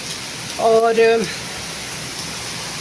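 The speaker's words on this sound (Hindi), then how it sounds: "बहुत तेज़ बारिश" Heavy August rain pours down in a steady, dense hiss that fills the whole stretch, with a brief voice rising over it near the start.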